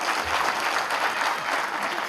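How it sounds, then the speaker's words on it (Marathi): Steady applause from a crowd at a silver jubilee event, continuous and moderately loud, with no clear voices over it. "तुम्ही खालूनच टाळ्या वाजवताय"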